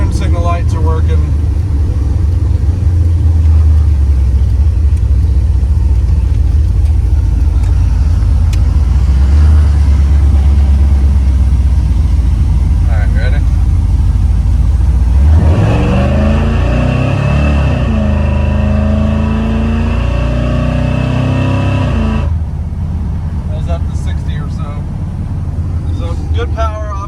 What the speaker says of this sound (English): We'll get on a straight road and nail it from a stop for you.